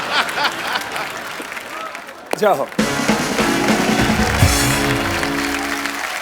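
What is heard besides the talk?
audience applause for Swami Ramdev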